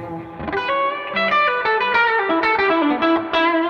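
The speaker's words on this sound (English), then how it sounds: "the modified spring reverb on these Deluxes is no exception" Electric guitar chords ring through a Fender Hot Rod Deluxe amp soaked in modified spring reverb, the notes blooming and trailing off in a steady, wet wash.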